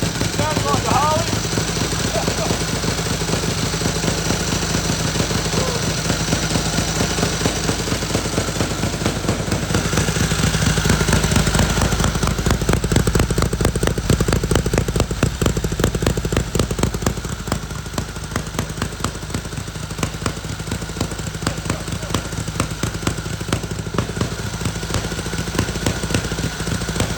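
An old engine at the Historic Village in Herberton runs loudly and continuously, a rapid, uneven chugging beat like a Harley motorcycle that holds steady for the whole stretch.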